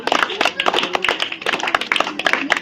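A classroom of students claps for a classmate during a spelling test, a brisk round of many hands clapping close by, irregular and overlapping for a few seconds without talk.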